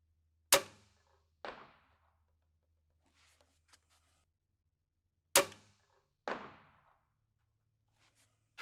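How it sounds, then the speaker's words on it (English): Crossbow shots fired at an 80-yard target during scope setup, heard as two pairs of sharp releases: a loud snap each followed about a second later by a duller thud of impact, with quiet pauses between and a low hum underneath. "What we're going to do is fire 2 more shots to confirm where we're at"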